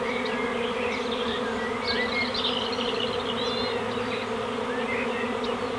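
Honeybee swarm droning in a willow tree, a dense, steady buzz with individual bees whining past close by, continuous and alone without talk.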